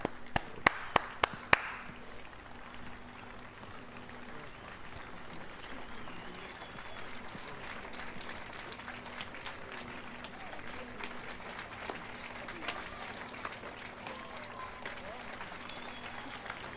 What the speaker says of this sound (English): Clap to that.